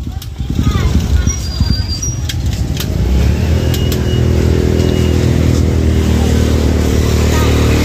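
A motor tricycle engine starting up and settling into a steady, close, loud running drone, with voices and clattering heard before it takes over.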